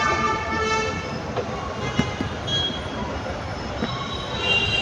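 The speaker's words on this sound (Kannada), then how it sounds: "ಗೈಸ್ ಮೆಟ್ರೋ ಬಂತು, ಈಗ ಮೆಜೆಸ್ಟಿಕ್ಕಿಗೆ ಹೋಗ್ತಾ ಇದ್ದೀವಿ ಗೈಸ್" A Namma Metro train pulling into a Bangalore station, loud rumbling rail noise with squealing wheels and a brief horn toot, nearby and continuous.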